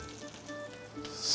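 Soft, continuous sizzling of onion and champignon mushrooms in a frying pan, a low hiss that swells slightly toward the end with no talking.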